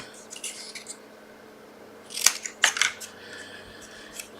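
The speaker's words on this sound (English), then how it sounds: "scissors" Scissors snip a few times in quick, crisp cuts, close up, after some light rustling and handling noises.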